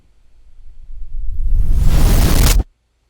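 A reversed sound effect plays back in Pro Tools, swelling gradually from near silence into a loud, dense rush that cuts off abruptly after about two and a half seconds, leaving silence.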